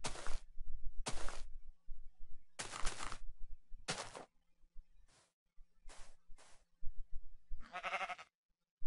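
Sheep bleat in Minecraft, heard among several short sharp bursts separated by quiet gaps, with one wavering bleat-like cry near the end.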